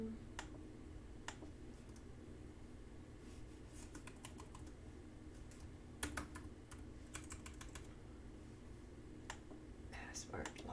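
Someone types a password and logs in on a computer keyboard, giving sparse, close clicks in small bursts with pauses between, over a quiet room hum and a low voice now and then.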